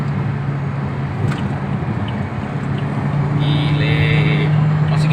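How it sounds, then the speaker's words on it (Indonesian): A 2014 Toyota Vios with manual transmission driving in third gear at 110 km/h, its engine a steady, smooth drone with road and wind noise inside the cabin, with people talking over it. "Gigi 3 110, mas, suara masih halus"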